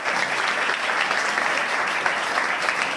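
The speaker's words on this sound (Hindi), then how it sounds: "पहले चलेगा ताली बजाओ।" A crowd at an Indian election rally claps steadily for a young candidate, dense continuous applause filling the whole stretch with no voices over it.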